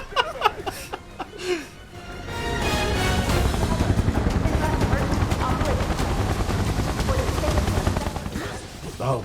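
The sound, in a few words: helicopter in video game Final Fantasy 7 Remake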